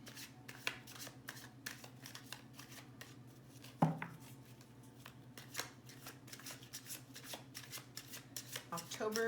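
Tarot cards being shuffled by hand in a quiet room, a steady run of crisp riffling flutters with a sharper tap midway, close and soft.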